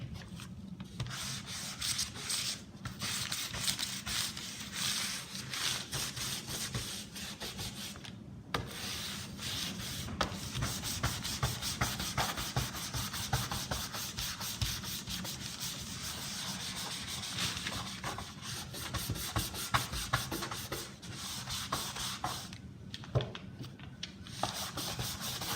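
Dark wax being buffed into a furniture surface, heard as a continuous close, rhythmic rubbing and scuffing with short strokes, steady and moderately quiet, with no voices.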